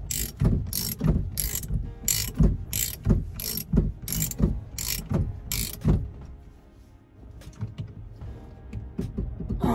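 A ratchet wrench clicks in rapid, steady strokes while a part is tightened on a 1979 Chrysler Cordoba during ignition cylinder work, close and loud, then fades to quieter handling noise.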